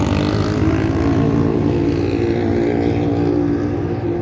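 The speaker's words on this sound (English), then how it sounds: "Loud motorcycle back there behind me on the strip" Loud motorcycle engine rumbling on the Las Vegas Strip on a hot morning, a steady heavy drone close by that fades slightly at the end, with no talking.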